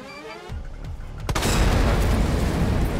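A sharp explosion bang erupts in Resident Evil 2 Remake, preceded by softer thuds, then a loud sustained rumbling roar and crackle that fills the rest of the moment.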